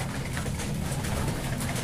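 Racing pigeons coo in a low, continuous murmur, heard close against a steady, noisy background.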